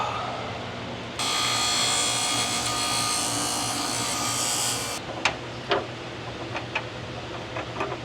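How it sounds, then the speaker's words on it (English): A bench grinder shaves down a part for a Foxbody Mustang with a steady, loud, high whine of metal being ground for about four seconds, then cuts off, leaving scattered clanks and handling noises. "I'm gonna go over to the bench grinder and shave this down a little bit"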